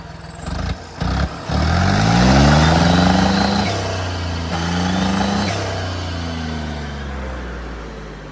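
A stationary car engine sputters to life, then revs hard several times, its pitch climbing and falling in loud near surges before easing back toward a steady idle.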